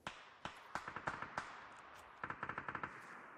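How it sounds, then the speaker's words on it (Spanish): Gunshots in an online tactical shooter game: a quick string of sharp, loud reports in short bursts, a few single shots followed by a rapid volley, with no talk over them. "Papo, le pegué dos tiros a ese que te marqué"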